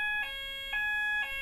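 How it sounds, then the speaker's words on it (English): A house fire alarm going off indoors, sounding loud piercing electronic beeps in a steady pulsing pattern, three tones roughly half a second apart over a constant high whine. "the fire alarm just went off in my house"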